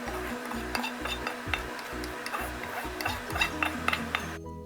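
Beef and lentil haleem mixture stirred in a cooking pot, a steady run of scraping, rubbing strokes with soft sizzling underneath and occasional utensil knocks against the pot, close and continuous.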